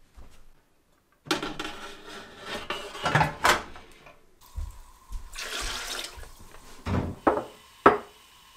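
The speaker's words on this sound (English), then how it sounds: "I've got to get my pressure canner on the stove." A pressure canner is set onto a kitchen stove while canning garden produce, giving a few hard metallic clunks and knocks with some clattering between them, close and fairly loud.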